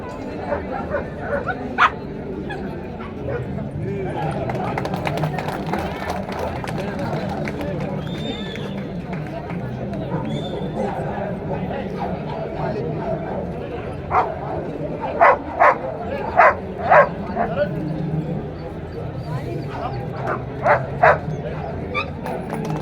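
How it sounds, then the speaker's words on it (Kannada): Haveri district police dogs bark sharply in short clustered bursts at an outdoor dog show, yips rising over steady crowd chatter and an announcer's voice carrying through a loudspeaker. "ಹಾವೇರಿ ಜಿಲ್ಲಾ ಪೊಲೀಸ್ ದಳದ ಶ್ವಾನಗಳು ಪ್ರದರ್ಶನವನ್ನು ಇಲ್ಲಿ ನೀಡ್ತಾ ಇದ್ದಾವೆ"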